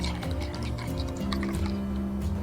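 Milk pours slowly down a chopstick into a bowl, giving a continuous close trickle and gurgle of filling liquid.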